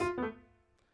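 A single note from a Ravencroft 275 piano software instrument struck and left to ring, decaying quickly into a soft sustained tail, with a faint second tap near the end.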